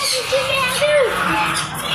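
Small sparrows call at a nest house in a zoo park in Ahmedabad, giving short squawking chirps mixed with other nearby noise and voices.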